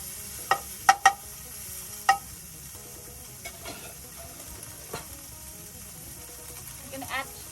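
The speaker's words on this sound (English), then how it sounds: "We stir fry until the pork is a little bit brown" Pork belly stir-frying in a pan in a Thai countryside kitchen, a steady low sizzle broken by several sharp clinks and scrapes of a utensil against the pan, close by with no talking.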